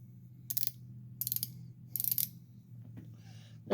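Three short bursts of rapid mechanical clicking from a Pittsburgh Pro flex-head ratchet wrench, evenly spaced, over a low steady hum, ending with a louder thump.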